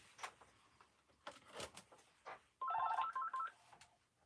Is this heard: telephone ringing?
yes